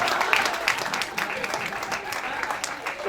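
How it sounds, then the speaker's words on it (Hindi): An audience at a comedic poetry event claps continuously, a dense even wash of applause that stays steady throughout, with a voice faintly heard underneath. "तो तालियां कमजोर है,"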